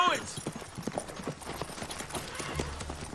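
Horse hooves clip-clop in steady rhythm near a barn with a horse and buggy in a frontier town, close and moderately loud, with voices talking over them.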